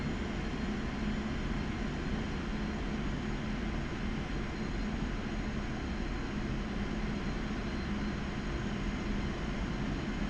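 A Su-25T jet flying in the DCS flight simulator, a steady broadband engine roar and rushing air that holds an even level throughout, with no other sounds on top.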